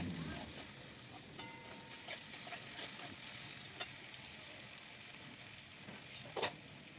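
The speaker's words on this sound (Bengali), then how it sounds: "এবারে আলুটা খুব ভালোভাবে ভেজে নেব" Potato pieces fry slowly in a pan over a low flame, a faint, even sizzle with a few soft clicks and stirring taps scattered through.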